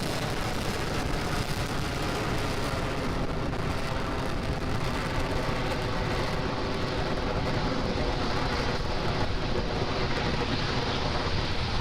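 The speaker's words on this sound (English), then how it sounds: "M1D engines are throttling down, getting ready to reduce vehicle acceleration" A dense, steady roar of SpaceX Falcon 9 Merlin 1D rocket engines during launch and throttle-down fills the whole clip, broadband and loud without a break, with no voices.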